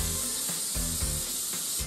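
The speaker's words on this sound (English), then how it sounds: "Spray a little bit of olive oil and then start to layer the pastry." Olive oil misted from a spray bottle onto sheets of filo pastry laid on baking paper, a steady close hiss with several short soft bursts and light rubbing, no talking.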